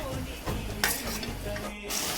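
Tomatoes are stirred into hot oil in a frying pan with a ladle, giving a continuous sizzle and scraping with a couple of sharper clanks. Close and steady, with no voices.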